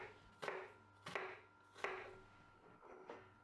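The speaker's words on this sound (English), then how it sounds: "Now I'm gonna cut it across to make my diced onion." Knife dicing an onion on a cutting board, four crisp, evenly spaced chops close by, fairly quiet and without talk.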